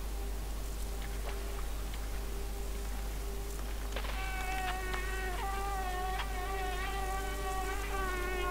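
A fly buzzing in the video game Limbo, a thin, wavering drone that rises and bends in pitch, entering midway and continuing over a faint, steady background hum.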